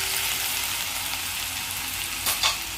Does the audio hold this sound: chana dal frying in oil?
yes